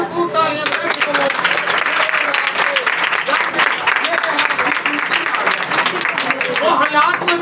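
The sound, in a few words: applause for Jesus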